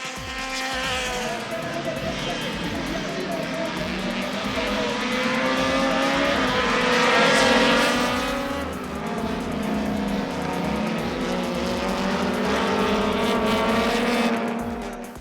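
Race cars roar around the Wallerfield circuit in Trinidad during a CMRC race, with engines revving and shifting continuously as they pass and swell in volume before fading slightly, loud and close throughout.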